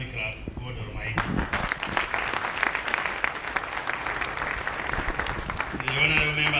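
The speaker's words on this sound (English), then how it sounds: "let me request everybody to give a very big hand clap to God Almighty" A crowd applauds at a graduation awards ceremony with steady, sustained clapping, and a voice can be heard faintly under it.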